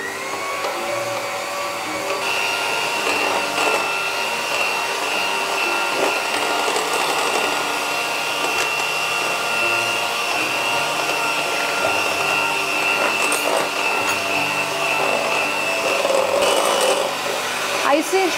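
An electric mixer beats eggs together with icing sugar for white chocolate biscuits, giving a steady, unbroken motor whir that holds at an even level throughout.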